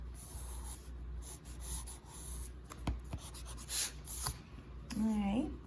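Pencil sketching a mouth on paper, heard as soft, scratchy strokes that come and go in short bursts, with a faint voice briefly audible near the end.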